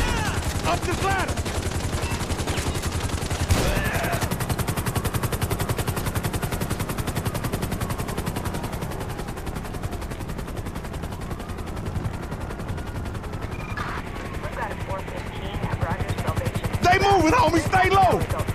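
Gunfire aimed at a police helicopter in GTA V, sustained rapid automatic shots running throughout over a constant rotor drone, with loud close bursts near the start and end.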